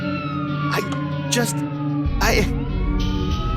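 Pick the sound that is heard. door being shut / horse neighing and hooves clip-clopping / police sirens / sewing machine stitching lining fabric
police sirens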